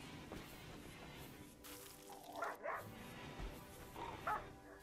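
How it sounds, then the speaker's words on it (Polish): Dogs bark and yip in the video game RimWorld, with a few short, agitated barks and whimpers rising over a low background of game ambience and music, moderately distant. "Nie podoba mi się dźwięk tych psów"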